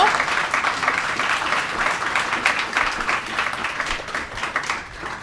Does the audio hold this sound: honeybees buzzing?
no